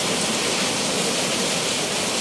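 Heavy rain pouring down in Manila, a dense, steady roar of falling water that stays loud and unbroken throughout, with no voices over it.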